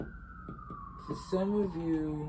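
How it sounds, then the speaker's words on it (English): Police sirens wail outside in New York City, their tone sweeping slowly downward at moderate distance beneath someone speaking indoors. "a lot of sirens and shenanigans going outside."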